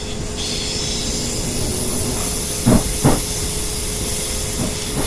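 Class 375 and Class 455 electric trains at London Victoria in the video game Train Simulator 2018, heard as a steady loud hiss and hum with a high whine, broken by two short thumps near the end.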